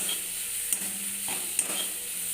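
Scrambled egg cooks with spices in a hot pan for egg tadka, a steady sizzle and hiss with a couple of sharp clicks as it is stirred, close and without talk.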